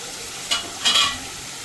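Spice paste for egg curry fries in a pan under a soft sizzle, with two short scraping stirs, the second longer and louder.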